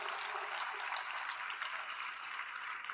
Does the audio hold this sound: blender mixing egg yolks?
no